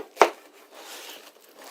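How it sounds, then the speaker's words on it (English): A knife chops through the end of a pineapple on a cutting board in one sharp, close crunch, followed by faint rustling and scraping. "When I cut a pineapple, the first thing I do is I cut off the ends."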